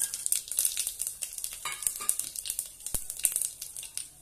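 Mustard seeds, black peppercorns, cloves, cinnamon and bay leaf crackle in hot oil for vangi bhat, with quiet, close sputtering pops in an irregular rhythm and no voices.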